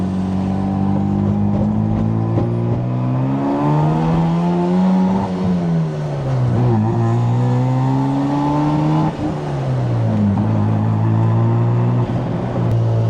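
Mazda RX-7 with a welded differential on the road, its engine droning loudly with rising and falling pitch as it accelerates and shifts, a steady close drivetrain roar throughout with no talk.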